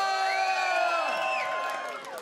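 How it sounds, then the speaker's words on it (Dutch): An audience at a festive Dutch party show cheers and whoops for a performer, a loud crowd of voices with rising and falling shouts that swells briefly, then tapers off. "Geef hem een heel groot applaus."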